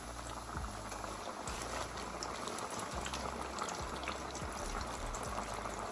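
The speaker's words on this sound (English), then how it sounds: "That grease is about 370 degrees. You see how it's rolling?" Fish fries in hot grease around 370 degrees, a dense, steady sizzle and bubbling roll with faint crackles, close and continuous throughout.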